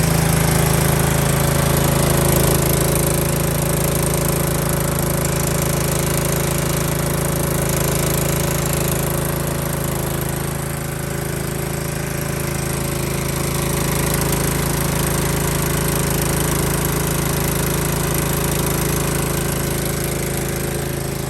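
An engine idles steadily and loudly throughout, a constant close mechanical drone with a harsh knocking rattle, left running so its oil warms before an oil change.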